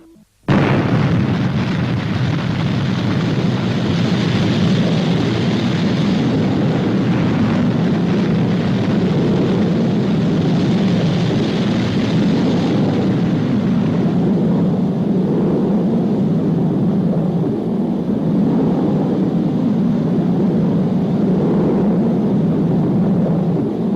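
A Fireball XL5 rocket launch roars out as a sudden loud ignition, then settles into a long, unbroken thunderous engine rumble that carries on for over twenty seconds without voices.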